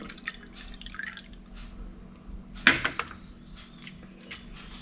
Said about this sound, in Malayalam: ഇതിലേക്ക് നമ്മൾ എടുത്തു വെച്ചിട്ടുള്ള വെള്ളം കൂടി നമുക്ക് ചേർക്കാം